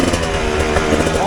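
A Rieju Ranger 300 two-stroke motorcycle engine fitted with an FMF Gnarly exhaust, running rich and loading up during slow riding, gives a loud, close, buzzy drone that warbles unsteadily throughout.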